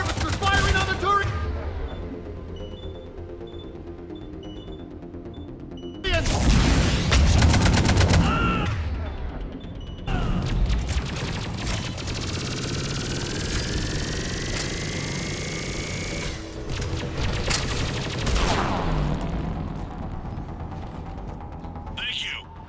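Harvester gunfire rattling in a Mass Effect battle, loud bursts of automatic fire and booms amid game music and effects, with radio voices calling out over the chaos.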